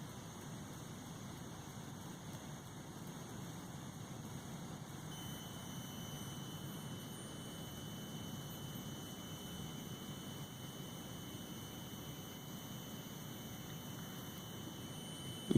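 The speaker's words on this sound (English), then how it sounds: "you can hear the buzzer buzzing and the LED being flash." A burglar alarm buzzer sounds continuously when an object is detected, a faint steady high-pitched electronic tone held unchanged for about fifteen seconds over a low hum.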